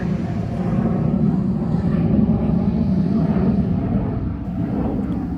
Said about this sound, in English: Another flyby from our friends at Tyndall Air Force Base.